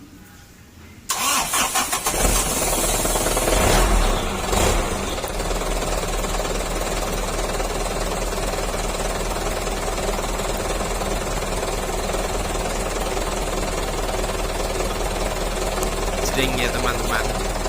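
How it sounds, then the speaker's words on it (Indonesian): A truck's starter motor cranks the engine, which catches and settles into a loud, steady idle rumble; a brief rattle comes first and voices talk over the running engine. "Saatnya kita coba starter ya teman-teman."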